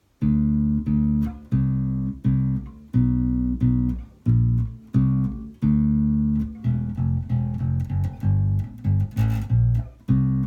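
Electric bass plays a verse riff, plucked and punchy with repeated low notes and short gaps between phrases, close and clear, growing busier toward the end.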